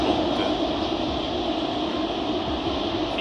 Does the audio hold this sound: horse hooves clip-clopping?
no